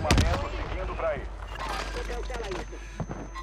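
Call of Duty gameplay carries bursts of close gunfire, sharp shots and rapid volleys over a low battle rumble, with a voice talking among the shots.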